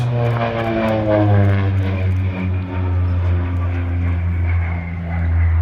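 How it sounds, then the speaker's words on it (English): A short-takeoff-and-landing aircraft at an air festival flies past in turbulent air, its propeller engine droning loudly and steadily with a deep harmonic hum that rises and dips slightly as it passes. "You can see the aircraft just bobbling around a bit in that turbulent air"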